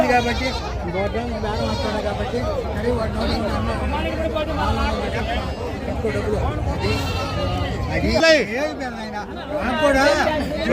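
Goats and sheep bleat repeatedly amid a busy crowd of chattering voices at the Gudur sheep market, with people talking throughout.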